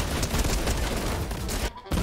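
Loud explosions and rapid gunfire from the Fortnite video game in a haunted house map, a dense continuous barrage with a brief gap near the end.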